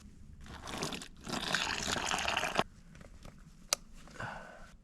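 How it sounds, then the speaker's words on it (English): Boiling water poured into an ice-filled container at a backpacking campsite, a rushing, bubbling pour in two bursts with a sharp clink between them. "Let's dump that boiling water in here."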